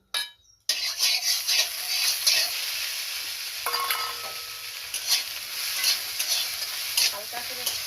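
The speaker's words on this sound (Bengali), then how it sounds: "এবার ঢেঁড়সটাকে আমি ভেজে নেব" Okra frying in oil in a wok, a bright continuous sizzle after a short quiet start, with stirring scrapes and a few light clinks throughout.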